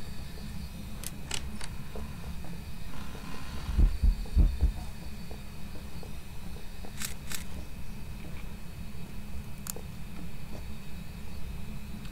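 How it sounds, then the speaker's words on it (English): A ghostly heartbeat in the horror game Phasmophobia thumps as a low steady pulse, a few stronger beats in the middle, set against a constant hum and occasional faint clicks. "Did y'all hear a heartbeat?"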